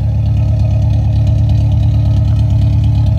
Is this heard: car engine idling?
yes